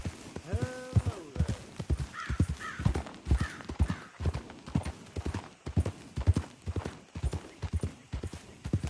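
Horse hooves clip-clop at a steady walking rhythm in Red Dead Redemption 2, close and clear with a neigh early on and spoken dialogue mixed over the hoofbeats.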